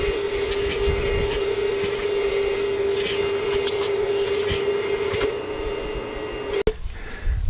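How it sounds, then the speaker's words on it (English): A vacuum pulls debris out of the funnel on a Branson 3015H tractor, a steady droning whine with a sustained tone that runs for several seconds before cutting off abruptly with a brief clunk. "So I'm gonna vacuum them out right now."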